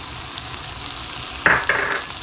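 Garlic hits a hot pot for Cajun gumbo, a continuous sizzle under a sharp burst of hissing and a couple of stirring scrapes near the end, close and loud with no voices.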